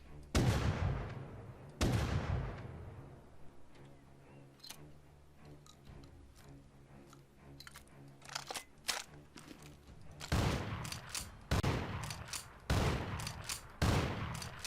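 A shotgun loaded with slugs fires at a wooden door in the video game Rust. Sharp, booming shots ring out alone: two single blasts early, then a quicker cluster of shots near the end, with a low rumble between them.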